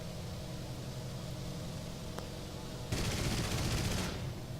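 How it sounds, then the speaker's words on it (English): Automatic gunfire rattles in a War Thunder tank battle, a dense rapid burst standing out loud over a constant engine rumble and noisy battlefield hum near the end. "Fire off a few rounds."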